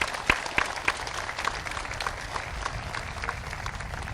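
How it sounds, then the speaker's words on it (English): Audience applause at a high school graduation ceremony, a steady wash of many hands clapping at moderate distance with a few sharper claps standing out near the start, continuing evenly throughout. "One more round of applause."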